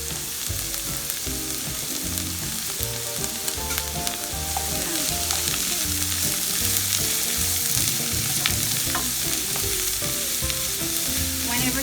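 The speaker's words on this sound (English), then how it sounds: "the celery, the onion, the garlic, and I'm going to saute" Celery, onion and garlic sizzle steadily as they sauté in a pot with occasional stirring, heard close up under continuous background music with no speech.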